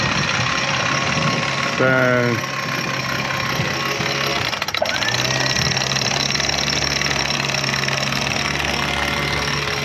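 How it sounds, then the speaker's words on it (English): Leopard 45 catamaran engines running at anchor, a steady low drone and rumble throughout, with brief talk and a short mechanical clatter midway. "I also heard that she started the engines"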